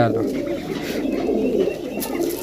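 Soft, low pigeon cooing close by, running beneath someone talking.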